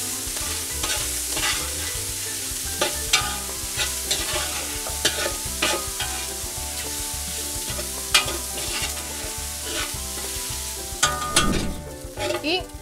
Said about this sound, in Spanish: Y salteamos.